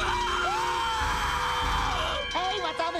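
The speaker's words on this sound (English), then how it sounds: "Hey, what's all the screaming up there?" Loud, continuous cartoon screaming from the SpongeBob SquarePants episode "Teacher's Pests," with wavering yells and whoops sustained for about three seconds under a busy music and effects bed, ending in a few rising and falling cries.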